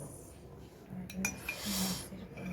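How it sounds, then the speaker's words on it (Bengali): A spoon stirs coffee in a cup, giving a few light clinks and taps against the rim in a quiet room, with faint breathing and low background noise. "চামিচটা দে, তিসা একটু নাড়া দেই।"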